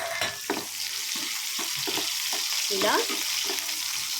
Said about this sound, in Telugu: ఇలా ఆనియన్స్ వేసి ఫ్రై చేసుకోవాలండి